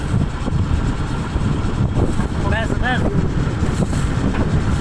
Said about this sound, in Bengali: এত সুন্দর বাতাস, যেটা আপনি সশরীরে না আসলে বুঝতে পারবেন না।